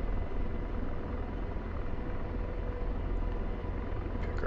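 Helicopter hovering in the DCS flight simulator game, a steady, dense rotor and engine drone holding at even loudness throughout with no talk.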